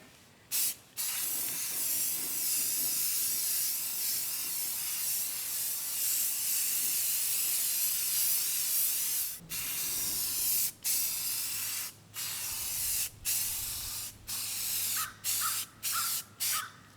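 A can of Krylon Fusion spray paint hisses steadily and loudly as it coats the roof of a 2006 Fleetwood RV outdoors. Near the end it breaks into a run of short, sputtering bursts.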